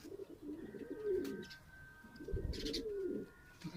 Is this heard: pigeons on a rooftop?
yes